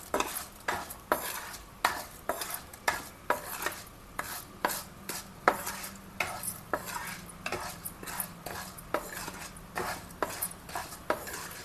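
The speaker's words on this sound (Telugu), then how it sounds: "ఫ్లేమ్లోనే చిన్నగా పెట్టుకొని వేయించాలి" Urad dal frying on a low flame is stirred with a utensil in a pan, giving regular scraping clinks at a steady rhythm over a faint sizzle.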